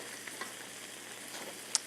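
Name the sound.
stuffed chicken breasts searing in a pan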